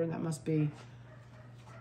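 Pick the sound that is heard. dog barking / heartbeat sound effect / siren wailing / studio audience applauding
dog barking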